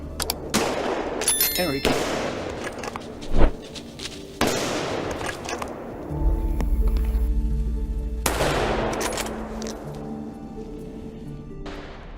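Gunshots during a wild boar hunt near wheat, corn and vegetable fields, fired with lead bullets: a few sharp cracks spaced across the stretch with outdoor rumble, and someone speaks briefly.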